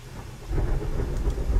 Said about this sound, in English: You guys enjoying the sound of the rain?